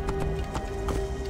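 Horse hooves clip-clopping in a video game, a quick run of close, evenly spaced hoofbeats over a steady low background hum, with no talk.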